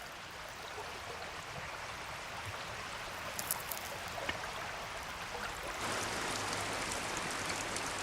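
Steady rain falls on a mountain river during amago spawning season, a dense continuous hiss of drops on moving water that swells louder and brighter toward the end, with no voices.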